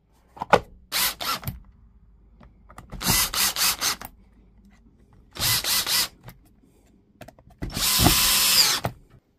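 A cordless drill running on a revived battery whirs in four separate bursts of about a second each, with short pauses between and a few faint clicks in the gaps.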